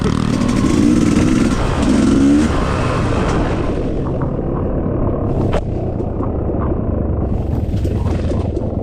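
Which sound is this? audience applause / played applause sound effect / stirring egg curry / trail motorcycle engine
trail motorcycle engine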